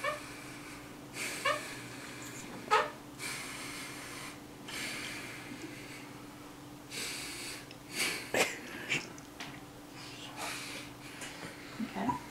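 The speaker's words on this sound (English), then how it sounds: "Take deep breaths." A patient breathes deeply during a lung check, slow audible inhales and exhales repeating several times close up, with faint background hum and a few soft clicks.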